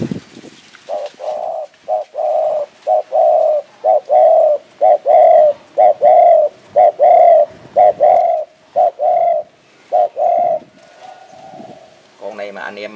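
Spotted dove, a Phú Yên bird, cooing in a steady series of rhythmic, resonant coos close to the microphone, with brief gaps between phrases and a short rustle at the end.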